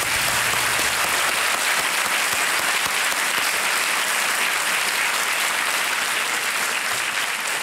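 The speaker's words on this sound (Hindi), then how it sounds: "तालियां बज जाएं इनके लिए।" A TV quiz show studio audience on Kaun Banega Crorepati claps loudly and continuously, a dense wash of applause that holds steady from start to finish.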